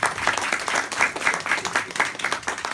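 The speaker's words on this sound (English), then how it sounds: "And I'd like a big applause for Esther Gerritsen." An audience applauds an author at a literary reading, with steady dense clapping throughout that swells in waves, close and fairly loud, and no talking.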